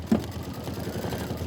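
A sewing machine stitches quilt fabric down with a fast, even mechanical whir and rapid pulsing needle strokes, close and steady throughout.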